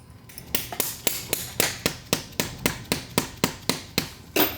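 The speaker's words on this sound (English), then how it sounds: "Give it some taps, kind of guide it in its home until it lines up with the bolt hole." Steady hammer taps, about a dozen evenly spaced sharp strikes, drive a part into place on a small block Chevrolet engine being assembled, close and fairly loud with no talk.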